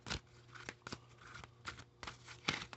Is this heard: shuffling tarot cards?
yes